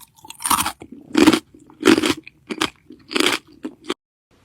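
Neck snapping sound effects from the film The Primate come as a series of crunchy, cracking bone snaps, about six separate close, sharp bursts spaced roughly half a second apart.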